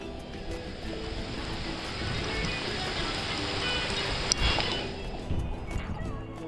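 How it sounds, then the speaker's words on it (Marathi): Heavy monsoon rain on a trek to Devkund waterfall near Tamini Ghat, a dense, continuous broadband patter close around, with a brief knock partway through. "एवढा मोठा पाऊस चालू आहे ना"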